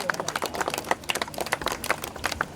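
Scattered hand claps from a group at a 1997-batch school reunion cake celebration in Dumduma, Bhubaneswar, irregular and moderately close, without talk.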